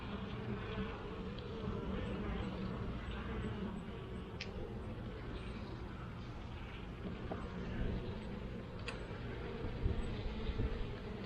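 Honeybees buzz at a small urban beehive during winter build-up, a dense, continuous drone of many wings close by, steady in loudness with no talk.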